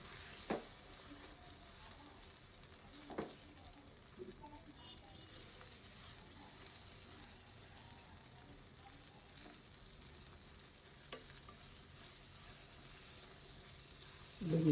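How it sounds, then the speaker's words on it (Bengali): Shing fish roe frying with onion, green chili, turmeric and salt, a faint steady sizzle with a few soft stirring clicks in a quiet kitchen. "এইভাবে আস্তে আস্তে ভাজতে হবে।"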